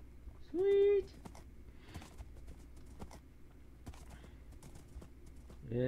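Horse hooves clip-clop faintly and steadily in the WynnCraft Minecraft game, a light regular trot running under soft clicks, with a short whinny-like tone early on.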